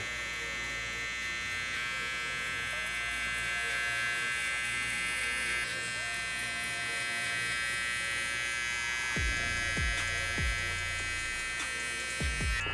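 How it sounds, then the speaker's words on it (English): An electric hair clipper buzzes steadily and close up while sculpting the top hair during a low taper fade haircut, with a few brief clicks toward the end and no talking. "I'm picking up the clipper and I'm just sculpting to that top hair"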